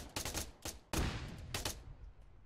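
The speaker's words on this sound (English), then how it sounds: "It's GL Central right now as we see the grenade launchers coming down from Blue 4" Grenade launcher explosions in the video game Arma 3 during a tournament match: a rapid cluster of sharp blasts and bursts, several close together, ringing out loud with no talk over them.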